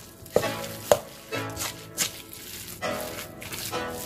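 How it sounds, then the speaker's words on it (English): Salmon croquette mixture being stirred and pressed in a bowl with a spoon: a few sharp knocks of the spoon against the bowl, then soft, irregular mashing and scraping strokes, close up. "Then we're gonna stir all our ingredients in."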